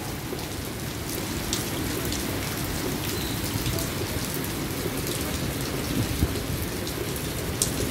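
A downpour hisses steadily during a storm in the UAE while low rumbles of thunder roll in the background, growing a little stronger toward the end.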